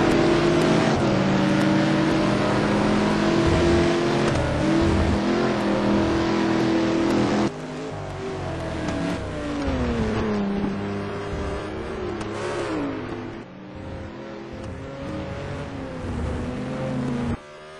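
Race cars, including a Corvette, roar around the Nordschleife circuit in an STC Black Cup race, with loud sustained engine drones and pitch shifts as they accelerate and pass, continuous throughout with a drop in level partway.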